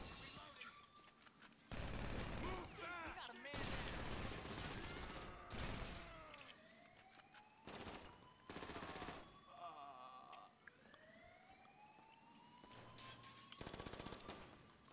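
Bursts of gunfire in a GTA game, several loud volleys of shots separated by brief pauses, with rising whine-like effects and a background voice now and then.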